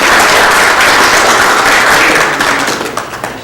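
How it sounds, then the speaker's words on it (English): Audience applause for George Carradini at a DaVinci Institute talk, a dense, steady wash of many hands clapping close and loud that thins slightly toward the end. "let's give a big round of applause for George Carradini here"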